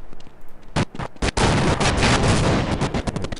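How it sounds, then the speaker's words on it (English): In the Half-Life video game, a couple of sharp gunfire-like cracks are followed by a loud, sustained explosion blast that fills the rest of the moment, close and heavy. "Now that's an explosion."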